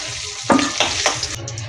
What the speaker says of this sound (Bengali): আমার তেলটা গরম হয়ে গেছে আমি ডিমগুলো ভেজে নেব লাল লাল করে